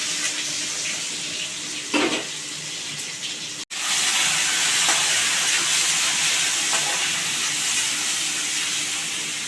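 Egg curry simmering in a pot on the stove gives a steady soft hiss of bubbling and steam, with a brief clunk near the start and a momentary break before the hiss resumes, continuing quietly without talk.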